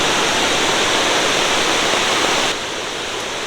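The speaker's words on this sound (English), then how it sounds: "it's still raging down the river" Flood-swollen river in the Great Smoky Mountains near Gatlinburg rushes after Hurricane Ida, a loud, constant roaring wash of turbulent water that drops a little in level partway through but never pauses.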